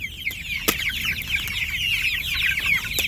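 Cornish Cross chickens in a mobile chicken tractor cluck and chirp in a busy, overlapping chorus, with a few sharp clicks and a brief flutter, moderately close and unaccompanied by speech.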